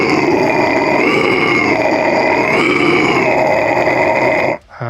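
Low vocal fry scream forced out through the nose, a steady gritty growl held loud and continuous for about four and a half seconds before cutting off, with a brief rough breath at the end.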